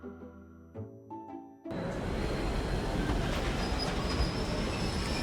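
A tram rolls along through a night landscape in the game Love and Deepspace, a loud, steady rumble with rail clatter and wheel hiss that starts abruptly after a few soft musical tones.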